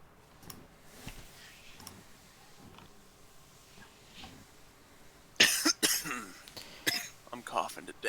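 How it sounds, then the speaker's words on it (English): A person coughs hard after drinking water the wrong way, a quick burst of loud, ragged coughs and throat clearing near the end, following quieter clicks and faint talk. "I'm coughing to death. Because I drank water funny."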